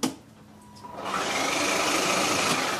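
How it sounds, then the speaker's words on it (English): Upgraded 24V Kidtrax Power Wheels ride-on motor spinning up slowly after a click, a rising whine and hiss building over a second, then holding steady and loud. "I will mash the pedal down, and you hear it slowly getting started."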